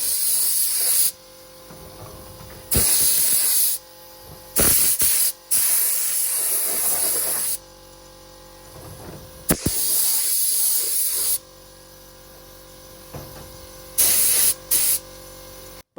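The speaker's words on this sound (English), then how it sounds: "I made sure not to go too heavy with the lacquer because we're painting outside" Short, loud bursts of aerosol spray as lacquer goes onto a Ford Escort engine rocker cover outdoors, repeated passes of one to three seconds each with quieter gaps between them.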